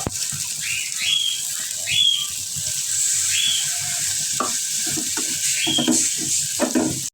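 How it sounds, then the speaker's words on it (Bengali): Steady sizzling of turmeric and chili powder frying in a pan with a little water, a continuous hiss with occasional stirring scrapes; no one speaks. "পানি দিয়ে কষাই দেবো।"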